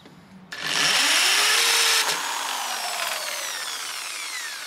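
A power drill boring a small pilot hole for a battery mount on a custom lowrider bicycle: the motor kicks in abruptly and whines at high speed, its pitch shifting as the bit bites, then a steady grinding hum continues alone.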